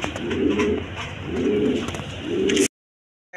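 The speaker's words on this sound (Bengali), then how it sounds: "এক জোড়া বাচ্চা সহ কালারিং গোল্লা, যার পছন্দ হয় এই পেয়ারটা নিতে পারবেন" Pair of colouring golla pigeons cooing close by, three swelling throaty coos in a slow regular rhythm before the sound cuts off abruptly.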